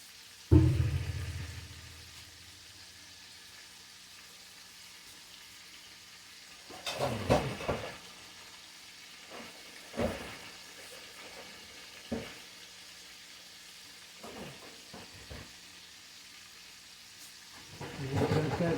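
Salted fried chicken frying in a pan gives a steady, low sizzle, with a few louder clatters and bumps now and then and a stronger burst near the end.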